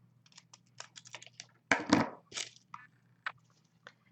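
Snips of cutting for a handmade Christmas ornament: a handful of short crisp clicks and crunches, one louder crunching cut near the middle, close and isolated in a quiet room.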